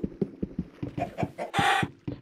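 Chickens in the video game Minecraft cluck in a rapid series of short, close clucks, with one louder squawk in the middle, playing alone with no voices.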